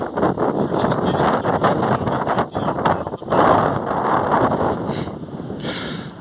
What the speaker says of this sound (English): Really windy, as you can probably hear.